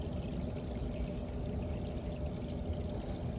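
Water pours steadily through a white pipe in an aquaponics system used for growing trees, making a continuous, even rushing with no pauses and no voices.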